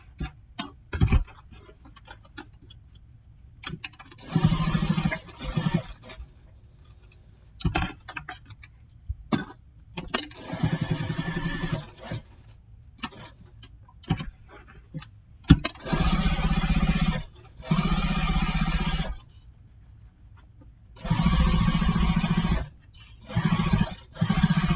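A sewing machine basts around a backpack panel in repeated runs of steady mechanical stitching, each burst lasting a few seconds, separated by pauses and handling clicks.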